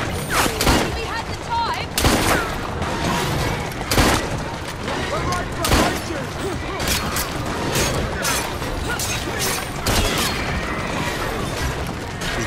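Gunfire in Assassin's Creed Syndicate: repeated loud gunshot cracks at irregular intervals over a dense, busy game soundscape, with voices talking throughout.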